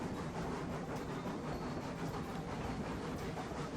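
A Heisler geared steam locomotive runs in the Railroads Online game, giving a steady, dense rumble with faint rhythmic rail clatter, loud and continuous without talk.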